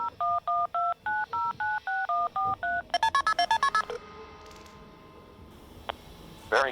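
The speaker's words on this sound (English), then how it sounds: "For those brave enough to dial the number" Touch-tone telephone number being dialed: a rapid run of about a dozen clear, evenly spaced DTMF beeps, then a faster burst of tones, followed by quieter line noise and a couple of faint clicks.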